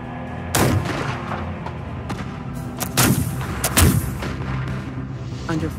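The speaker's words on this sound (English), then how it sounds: "Under fire from two sides, Izzard orders his troops to keep advancing." Battle gunfire and artillery fire crash out in a sustained exchange: several heavy booming blasts at irregular intervals over a constant rumble of distant shooting, loud and close.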